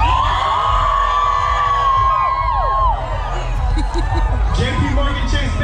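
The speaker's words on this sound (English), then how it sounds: "Let's make some noise, crowd!" A crowd at a Pride 2024 event cheers and whoops steadily, with yells and shouts riding over a loud, continuous babble of voices and some music in the background.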